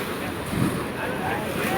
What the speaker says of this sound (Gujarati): દરિયો રૌદ્ર રૂપે થયો છે